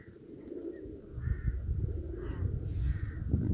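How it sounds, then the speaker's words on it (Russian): Crows caw a few times near pigeons, fairly distant outdoors, over a low rumbling background. "И вороны"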